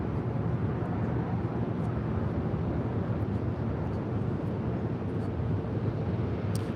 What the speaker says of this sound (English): This is Volaris 4331 taking off to San Salvador on an A320neo